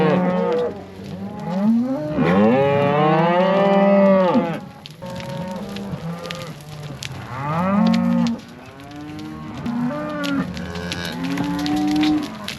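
Cows and calves moo at a livestock working facility, a series of long, loud, drawn-out calls that rise and fall and overlap, some nearby and others further back, with no talk over them.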